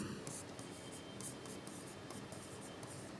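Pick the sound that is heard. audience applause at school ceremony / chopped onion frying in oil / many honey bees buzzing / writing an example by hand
writing an example by hand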